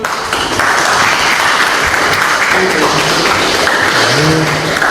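Loud, dense studio audience applause greeting a contestant walking on in a dating show, a continuous roar of clapping close up, with faint voices and scattered tones beneath it.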